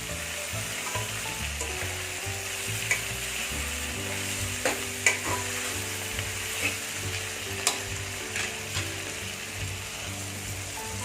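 Chopped onions and four tomatoes sizzle steadily in a pan for Tamil mutton kulambu, with a spoon scraping and clinking against the pan in scattered knocks through the continuous frying hiss.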